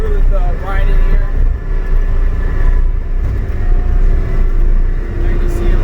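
A John Deere 331G compact track loader drives along, its engine a steady close rumble with a loud continuous low drone, while someone talks over the machine throughout.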